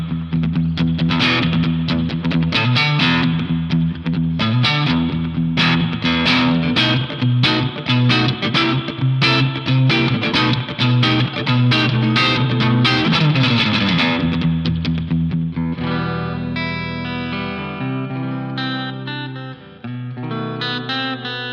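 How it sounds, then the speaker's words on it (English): Electric guitar played through a spring reverb, surf style, rings out loud and continuous with a bright, splashy wash and the springs in the tank rattling behind the notes, fading toward the end. "bright rattle of the springs in the spring tank"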